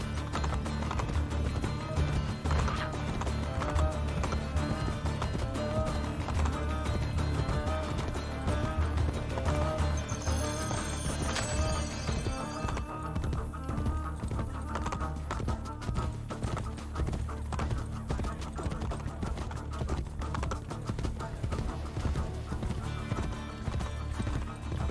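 Steady clip-clopping of horse hooves in Assassin's Creed: Brotherhood carries through the whole stretch over a dense layer of game music, with a horse whinnying partway through.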